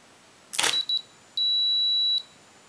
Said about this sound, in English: the beep lets us know that the flash is ready to go